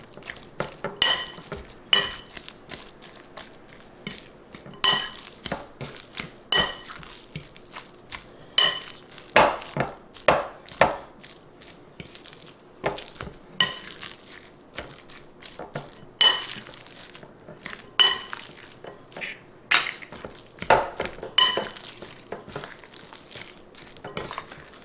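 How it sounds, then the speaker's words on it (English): Ingredients for a Filipino-style meatloaf being mixed in a bowl, with repeated clinks and scraping knocks of a utensil against the dish in an irregular rhythm, close and fairly clear. "Then we're going to just kind of mix this all up."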